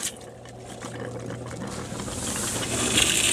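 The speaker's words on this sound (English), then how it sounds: "So I'll switch the pump on." A campervan pressure pump hums while fresh water runs, a faint trickle and low drone that grow steadily louder and brighter toward the end, with no voices.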